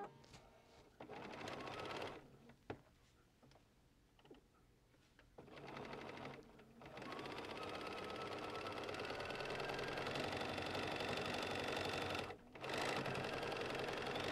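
Sewing machine stitching quilt fabric for a simple crazy quilt along a quarter-inch seam: fast, steady mechanical whirring in several runs, starting and stopping with short quiet gaps, close and alone.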